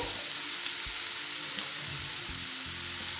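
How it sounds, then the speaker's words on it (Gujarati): Finely chopped onion sizzling steadily in hot oil in a pan for kaju palak, a dense close hiss that holds throughout with faint stirring knocks underneath and no talking. "હવે આપણે એમાં ઝીણો સમારેલો એક કાંદો એડ કરીએ છે"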